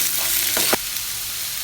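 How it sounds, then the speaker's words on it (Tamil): Onion, pandan leaves, curry leaves and green chillies sizzle in hot oil, a dense continuous frying hiss with a couple of brief stirring scrapes near the start. "இப்போ இது அப்படியே ஆயிலில் நல்லா வதங்கி வரட்டும்."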